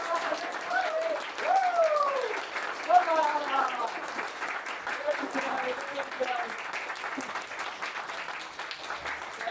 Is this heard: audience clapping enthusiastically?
yes